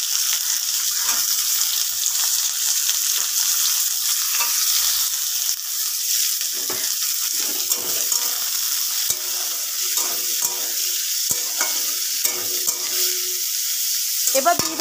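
Capsicums tossed into onions frying in a pan give a steady, loud sizzle with scattered stirring scrapes and pops, running unbroken close to the pan.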